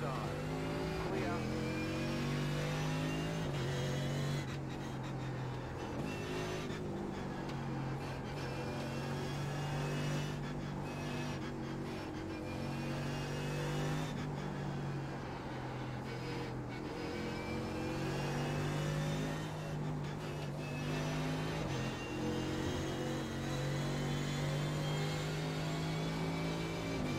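Race car engines in iRacing, with a Zakspeed Mercedes GT3 in an IMSA sportscar race: a sustained, loud engine drone rises and falls through gear changes, and other cars pass close by, under occasional talk.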